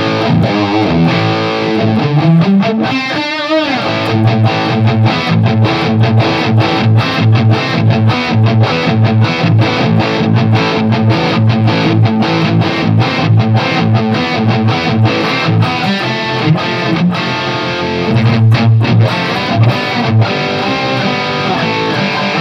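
A distorted electric guitar plays continuously with rhythmic chugging chords and sustained notes, loud and up close, with no voice, through a Marshall JVM410H tube amp and 1960AV cabinet with no delay.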